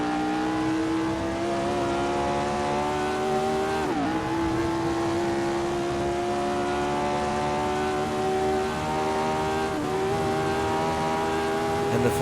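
A 1967 Formula 1 car in a racing video game, held in fourth gear on the power at the Dutch Grand Prix, its engine droning steadily with a rising pitch and two brief dips as it shifts, close and continuous.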